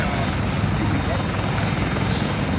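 A helicopter lands or takes off at Eisenhower Park, its rotor and engine making a loud, steady roar that fills the whole moment without letup.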